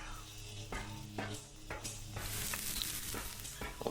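Industrial cooker in the game ARK Ragnarok, a soft sizzle with a low mechanical hum and a few sharp clicks and taps, fairly quiet and without talk.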